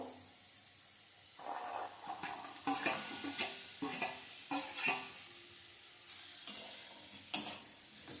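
Onion and mixed vegetables fry in oil in a pan while being stirred, a steady close sizzle broken by repeated scraping strokes and clinks of the spatula, with no one talking.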